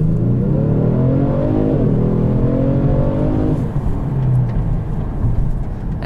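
A 2019 Genesis G70 3.3T launches hard under launch control, its engine roaring loud and rising through the revs, with an upshift before the pitch climbs again.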